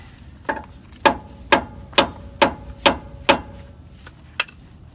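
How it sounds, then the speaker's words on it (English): A small hammer strikes a tight nut on the lower shock mount of a 1999 Ford F350 being fitted with ProComp ES3000 shocks: seven sharp metallic taps at a steady rhythm, close and clear, then one lighter tap after a pause. "use this LFH, that's little freaking hammer."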